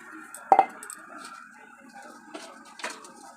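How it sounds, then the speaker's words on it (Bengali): A perforated metal plate clanks down onto a pot of heated water for steaming bhapa pitha, one sharp double clink followed by lighter scraping knocks, close and alone without talk. "এখন গরম জলের উপর একটা ছিদ্র করা থাল দিয়ে দিয়েছি"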